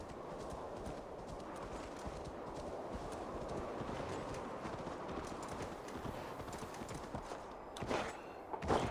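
Horse hooves clip-clop in Assassin's Creed Valhalla in a steady, rapid rhythm over a dense rumbling background, with a louder burst of noise near the end.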